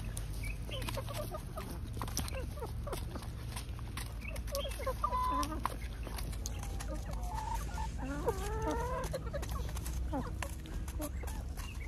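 A rooster and Sanhuang chickens cluck and call continuously while feeding on an apple, several birds vocalising close by in short overlapping clucks over a constant farmyard background.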